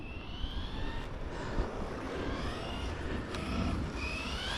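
A Team Corally Kagama electric RC offroad car fitted with a Sledge motor runs nearby, a steady whining motor hum with rising and falling pitch, fairly loud and with no talk.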